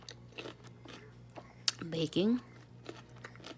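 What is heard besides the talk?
biting and crunching a hard peach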